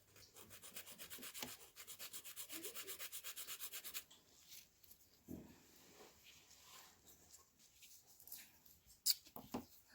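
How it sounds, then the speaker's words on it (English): Fingernails being filed and reshaped with a nail file after dip powder, a steady rapid rasping stroke for about four seconds, then quieter scattered scraping and handling sounds close to the microphone. "you just want to file and reshape at this point"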